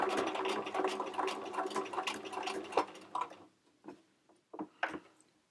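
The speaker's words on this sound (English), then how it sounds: "lower that presser foot, slide out the pin, and sew the pleat." A domestic sewing machine stitches down a folded knife pleat with the presser foot lowered, a dense, rapid mechanical run for about three seconds, then stopping and restarting in short separate bursts, close and moderately loud with no talking.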